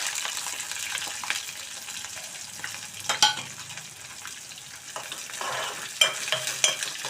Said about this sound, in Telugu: ఇప్పుడు ఒక ఉల్లిపాయ సన్నగా కట్ చేసుకున్న ఒక 3 పచ్చిమిర్చి,